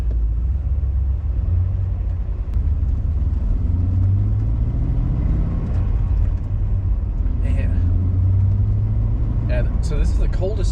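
A car with a newly fitted engine, driven on a cold day, gives a steady loud engine rumble from inside the cabin, with the drone rising and falling as it goes through the gears.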